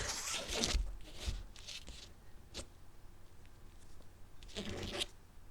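A deck of cards is cut in a couple of quick riffling, rustling bursts, with a few soft taps and shuffles between them, close and fairly quiet.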